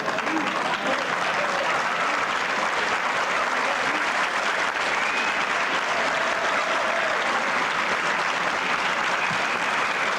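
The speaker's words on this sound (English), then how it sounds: "The crowd is applauding in approval for the valiant effort of Steve Mizerak." A crowd at a 14.1 straight pool championship final breaks into sustained, dense applause, loud and steady throughout with no break in the clapping.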